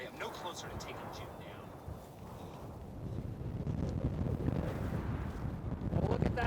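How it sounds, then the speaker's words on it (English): Wind on an exposed spot in Newfoundland, buffeting the microphone in a steady low roar that grows stronger toward the end, with faint voices partly buried beneath it. "It's windy again."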